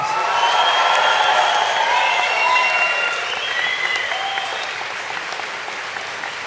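Graduation ceremony audience applauds warmly with scattered cheers and whoops, a broad steady clapping from a large hall that tapers slightly toward the end.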